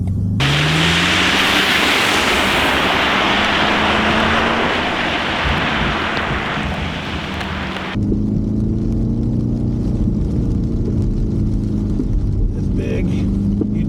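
A BMW M5 Touring wagon runs a slalom course, its engine droning and rising in pitch with heavy wind and road roar throughout, loud and close as from inside the cabin.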